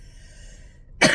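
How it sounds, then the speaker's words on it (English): A single sharp cough from a persistent, weeks-long cough bursts out at the end after a moment of quiet, close and loud. "Sorry, I've had a very strange cough."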